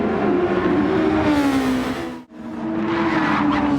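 Loud Super Formula race car engines at Suzuka Racing Course, a steady high-revving drone that shifts pitch, cuts out sharply for a split second, then returns at full volume, with no talk.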